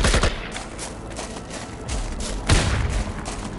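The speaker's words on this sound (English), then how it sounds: "the guards come out from the top onto the balcony and actually man those two machine guns that are there" Machine gun fire from the Project IGI video game, two guards on a balcony manning mounted guns: dense, loud rattling bursts that swell at about two and two and a half seconds, with no voices.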